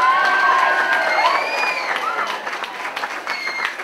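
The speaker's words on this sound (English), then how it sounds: "I'd like to have my applause now before you see my act" An audience at a Tommy Cooper comedy show bursts into loud applause mixed with cheering, shouts and whoops, a dense continuous roar from the crowd.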